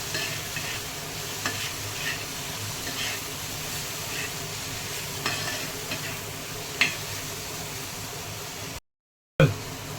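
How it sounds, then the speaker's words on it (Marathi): Dried karandi shrimp fry with masala is stirred in a pan, with a soft continuous sizzle and periodic scraping strokes. A brief silence and a clunk come near the end. "झाकण उघडून एकदा चेक करून घेऊया आणि व्यवस्थित ढवळून घेऊया जेणेकरून खाली लागणार नाही मसाला"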